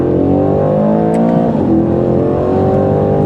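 A 2025 Aston Martin Vantage engine roars loudly and close, its pitch climbing and dropping sharply as rapid paddle-shift gear changes cut in one after another with no talk over it.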